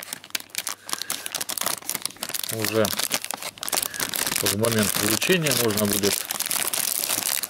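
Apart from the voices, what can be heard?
plastic bag crinkling while wrapping a gift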